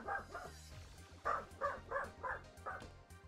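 A dog barks repeatedly, about seven barks in an uneven rhythm, fairly faint behind a steady low hum and some background noise.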